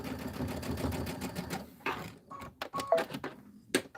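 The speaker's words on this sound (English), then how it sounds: "This is my last one, so I'm going to do a little back stitch." A sewing machine runs in a steady mechanical burst for about two seconds, making a short back stitch, then stops; a few sharp clicks and small handling knocks follow.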